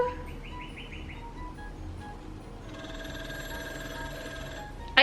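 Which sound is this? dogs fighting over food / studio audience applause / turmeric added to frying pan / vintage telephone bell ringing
vintage telephone bell ringing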